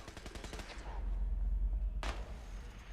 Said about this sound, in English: I think I hear shooting.